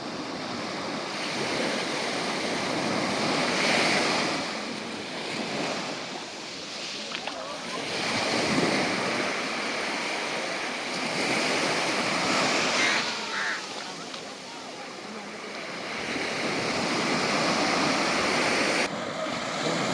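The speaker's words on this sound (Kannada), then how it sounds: "ಇದು ಕಪ್ಪು ಕಡಲ ತೀರ." Waves wash onto the black sand beach at Tilmati near Karwar, Karnataka, a steady roar of surf rising and falling in broad surges with some wind across the microphone.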